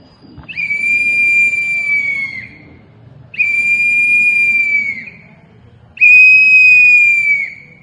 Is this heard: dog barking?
no